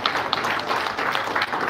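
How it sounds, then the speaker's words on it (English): Conference audience at a biodiversity conference in Nepal applauding the speakers: a dense, steady wash of clapping from a roomful of people, continuous and fairly loud throughout. "big round of applause for speakers and you all"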